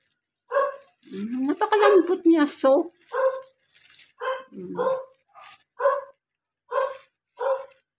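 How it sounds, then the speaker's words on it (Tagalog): A dog barks in several sharp, evenly spaced bursts, loud and fairly close, with a person talking over the first part and then pausing between the barks. "Ang aking aso doon."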